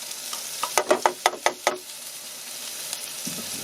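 Celery and carrot sizzle in a hot pan for shrimp ramen, with a quick run of about seven sharp clacks of stirring up close, followed by a softer steady crackle.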